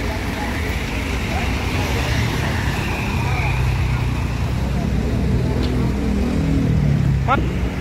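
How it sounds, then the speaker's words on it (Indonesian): A tour bus rolls past at a bus terminal, its engine rumble and road noise forming a steady loud wash, with a brief squeal near the end and no clear speech. "Bus pariwisata."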